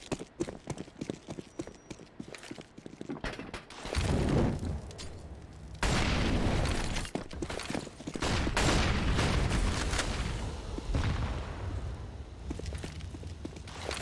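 Explosions and gunfire during a Counter-Strike match on the Vertigo map in an online tournament, with a grenade going off. Sharp clicks and scattered shots give way to several loud, sustained booming bursts that rumble for a second or two each.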